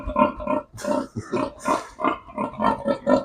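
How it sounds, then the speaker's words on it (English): A pig close to giving birth grunts on a pig farm in a run of short, close, loud grunts and snorts that come in a steady rhythm with brief gaps between them. "So this is one of my pigs that is about to give birth."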